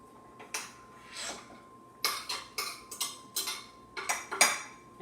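A spoon or utensil clatters against a bowl while a vegan brunch batter with egg substitute and yeast is stirred, giving several loud, sharp clinking bursts in irregular clusters, close by with no talking.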